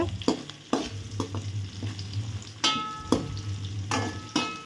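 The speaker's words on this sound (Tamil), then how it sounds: "இந்த வெங்காயம் நல்லா பொன்னிறமாக வர்ற வரைக்கும் நல்லா வதக்கி விட்டுக்கோங்க." Onions sauté in a pan for drumstick curry, sizzling steadily while a spoon scrapes and stirs them in repeated clanks against the pan, all close by.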